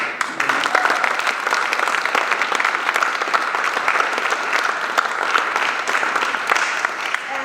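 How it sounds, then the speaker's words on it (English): Steady, enthusiastic applause from an indoor audience at a public conversation event at an arts center, dense clapping that continues without a break for several seconds. "I want to give a round of applause for Benjamin."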